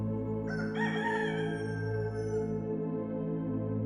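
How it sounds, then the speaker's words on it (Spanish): A rooster crows once at a moderate distance, a drawn-out call rising then trailing off over a steady low hum. "a lo lejos, escuchó el canto de un gallo"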